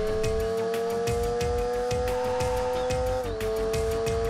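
In the video game Need for Speed 2, a car engine drones steadily with a high tyre squeal laid over it, and the pitch dips sharply near the end as the car brakes.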